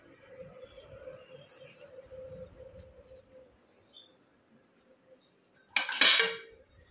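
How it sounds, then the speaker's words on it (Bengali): Plates clatter and clink together in one sharp, close burst near the end, after a stretch of quiet room sound. "এই ধরো প্লেট লই।"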